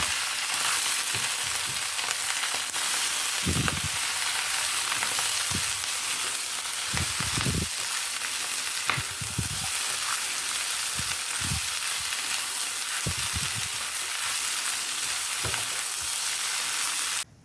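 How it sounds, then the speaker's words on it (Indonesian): Vegetables and sliced spring onion stir-frying in a pan for Indonesian mie goreng give a constant dense sizzle, broken by repeated scraping stirs and clacks of a utensil at close range, with no talking. "masukkan sayuran dan potongan daun bawang. Lalu diaduk-aduk, dimasak atau ditumis sampai sayurannya setengah matang."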